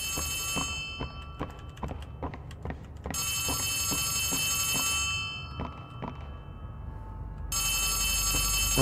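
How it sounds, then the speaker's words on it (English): An old-style bell phone rings in Poppy Playtime Chapter 3, bursts of bright ringing separated by silent gaps while regular dull thuds and clicks tick along underneath, fairly loud and close. "Phone ringing."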